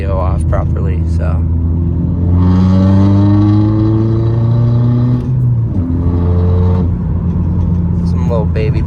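A car engine revs hard through acceleration pulls, rising in pitch across two long sweeps with a deep rumble underneath, loud and close inside the cabin, a person's voice talking over parts of it.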